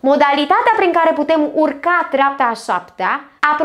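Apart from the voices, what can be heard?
No everyday noises stand out.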